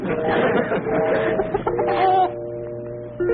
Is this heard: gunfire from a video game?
no